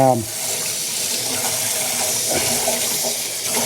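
Tap water runs steadily into a kitchen sink as brined cabbage leaves are rinsed, a continuous close splashing hiss with a brief voice at the start.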